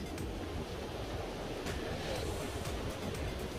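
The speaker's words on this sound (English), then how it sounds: "isn't it crazy that it's so windy" Strong wind on a hiking trail near Dennis Cove Road on the Appalachian Trail roars and buffets the microphone in a constant, rough wash of noise, with occasional sharper gusts and no voices.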